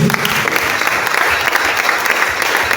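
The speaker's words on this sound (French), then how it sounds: "Est-ce que tu peux donner des acclamations pour le Saint-Esprit?" Church congregation at a prayer service applauding and cheering for the Holy Spirit, a dense, loud, continuous wash of clapping from a crowd that fills the room throughout.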